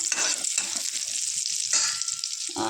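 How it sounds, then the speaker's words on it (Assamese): Pointed gourd (potol) pieces frying in oil in a pan, a dense continuous sizzle with bursts of scraping as a spatula stirs them, close and with no voices. "এতিয়া এয়া পটলখিনি ফ্ৰাই কৰি ল'ম।"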